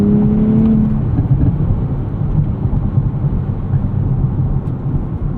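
2024 Nissan Z Nismo with a 3-liter twin-turbo engine pulling hard, a steady loud whirring drone of engine and road noise, a higher whine fading after the first second, no voices.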